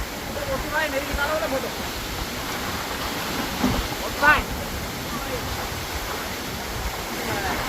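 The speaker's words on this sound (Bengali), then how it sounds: "কত উঁচু দিয়ে পড়ছে দেখো জলটা।" Bhondiya Kund waterfall near Kukur Khamla village in Betul, Madhya Pradesh, drops about 500 feet amid hills and a crowd of visitors. Its water rushes in a steady, even roar, with faint voices nearby.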